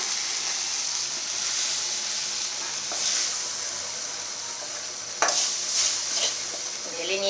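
Okra bhaji sizzles steadily in a pan as it is stirred, a close, bright frying hiss with occasional scraping and clattering strokes of the spatula, and no talk.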